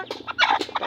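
Pet chickens being fed sound off up close, with a quick run of short clucking and gobbling calls that overlap in busy bursts.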